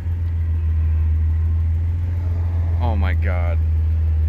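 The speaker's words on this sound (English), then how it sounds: "I'm on autopilot, just casually driving over these sand ruts." Jeep Cherokee with an NV3550 manual transmission and 3.55 gears crawling in four-low over sand ruts, a steady close low engine drone throughout with a person speaking briefly near the end.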